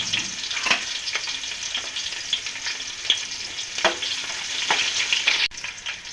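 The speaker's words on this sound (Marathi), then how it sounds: "तर लसूण भाजत आलाय." Garlic sizzles and fries in a hot pan for Maharashtrian katachi amti, a continuous close crackle punctuated by light scrapes and stirs, with no voices.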